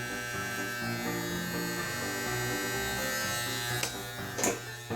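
An Andis T-Outliner electric hair trimmer runs with a steady, close buzzing hum, holding even throughout with a couple of brief bumps near the end.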